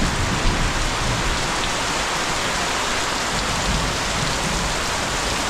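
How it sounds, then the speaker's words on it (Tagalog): Heavy rain pours steadily in a flood-prone Philippine town as a storm sets in, a dense, constant loud hiss of drops drumming on surfaces with no voices. "So, ang lakas ng ulan, no?"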